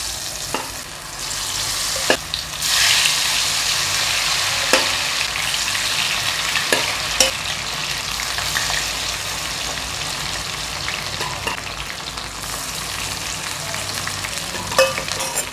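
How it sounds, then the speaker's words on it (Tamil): Marinated mushrooms deep-frying in hot oil give off a steady, close hiss of sizzling with scattered sharp crackles and pops throughout. "இதை இப்போ நம்ம எண்ணெயில் பொரிச்சு எடுத்துடலாம்."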